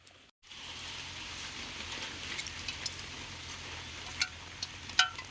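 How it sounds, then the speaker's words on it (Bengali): Heavy rain falls on a village pond during fish catching, a steady dense patter over the water with a few sharper splashes and drops standing out nearby. "এখন পড়ছে বৃষ্টি পড়ছে একদম প্রচুর"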